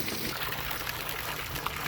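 Fresh water pours steadily from a container into a drinker for farm birds, a continuous close splashing trickle without a break.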